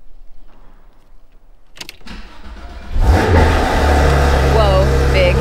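A 2019 Porsche 911 GT3 RS engine cranks with a brief starter whir and catches into a loud, steady idle roar that fills the rest of the clip, close and alone after a faint key rattle.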